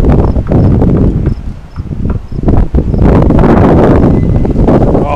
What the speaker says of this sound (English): Oh, there's a lot of wind.